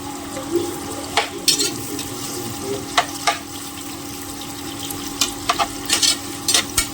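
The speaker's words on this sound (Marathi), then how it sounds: "तर आता मी हा कांदा आहे तो फ्राय करून घेते याच्यामध्ये चांगला असा गोल्डन ब्राऊन" Onion frying in a pan on high flame, a steady low sizzle broken by scattered sharp stirring clinks and scrapes at close range, with no talking.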